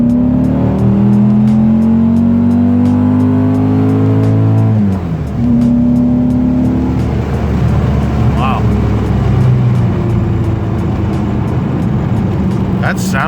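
A loud Volkswagen Beetle engine with a small heat-exchanger exhaust revving hard, its pitch climbing and sagging through several throttle pulls, then dropping to a rough, rumbling idle.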